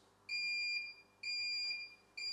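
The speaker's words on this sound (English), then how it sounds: "Once your timer beeps" A heat press timer beeps in high, piercing electronic tones, three sustained pulses at a steady rhythm, close and clear, with no talking over them.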